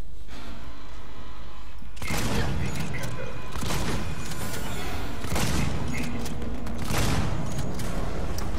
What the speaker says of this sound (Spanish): son 4 disparos de escopeta